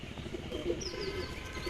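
A male Pakistani pigeon cooing softly nearby, a few low throaty coos over faint background noise, with a brief thin chirp partway through.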